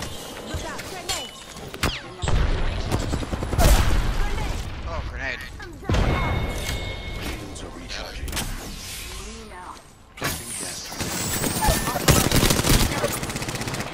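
Rapid bursts of automatic gunfire and single shots crackle repeatedly in a shooter video game, mixed with game effects and voices talking over the action.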